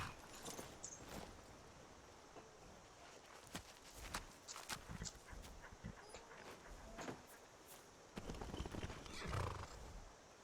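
Horse in the Skyrim video game near a lakeside stable, with scattered hoof clops and footsteps, a whinny toward the end, and faint background ambience at low level.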